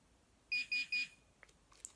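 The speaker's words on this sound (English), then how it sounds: "hold it down and let it beep 3 times" Sunece waterproof pinpointer beeps three times in quick even succession as it switches off. The high electronic tones are close and clear over a quiet background, followed by faint handling clicks.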